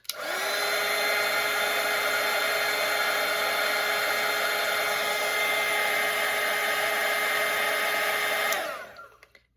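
A hair dryer blows steadily on watercolour paint, a loud continuous whir holding even for about eight seconds before it switches off and winds down.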